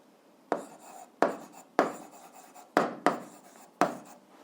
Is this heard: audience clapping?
no